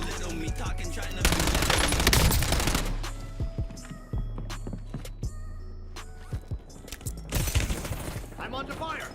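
Rapid bursts of automatic gunfire rattle loud and close in a video game, mixed with voices, single shots and clattering impacts.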